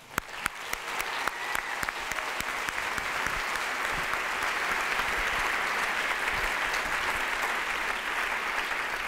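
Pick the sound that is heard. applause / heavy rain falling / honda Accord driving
applause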